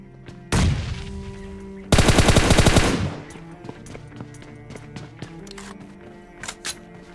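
Automatic gunfire shooting through walls in the PUBG Mobile game: a loud sustained burst, a short pause, then a second dense rapid burst of shots, followed by quieter scattered in-game clicks and ambient sounds.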